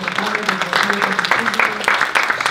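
Audience applause welcoming a speaker at an innovation forum in a hotel, a dense spread of clapping with voices talking over it.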